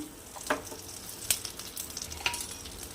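Whole cumin seeds and a torn bay leaf sizzle in hot oil in a kadai over a low gas flame, a quiet continuous hiss broken by a few sharp crackles and pops, with no talking.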